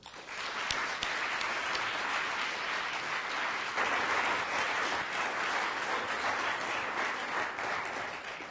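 Steady, full applause from an audience welcoming a speaker at a talk, dense clapping sustained at an even level for several seconds with no voices over it.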